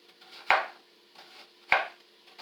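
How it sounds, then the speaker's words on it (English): A knife chops small vegetables on a board in a home kitchen, two sharp close knocks about a second apart with lighter taps between, in a quiet room. "we're going to cut them up into small pieces"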